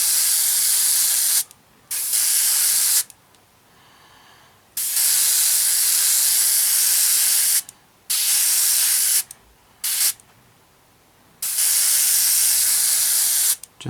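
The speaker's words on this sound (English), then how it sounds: "Spray a coat of this all on." Aerosol spray paint hisses onto a 1/32 Wingnut Wings RE.8 model kit in about six long, loud, steady bursts separated by short silent pauses, with no talking.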